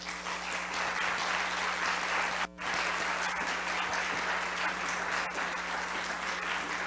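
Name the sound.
audience applause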